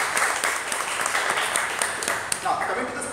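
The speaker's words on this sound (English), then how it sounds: "So can we have a round of applause for Toastmaster Kishore just for that?" An audience at a Toastmasters speech evaluation contest bursts into a short, dense round of clapping, fairly loud and close, with a speaker's voice heard over it.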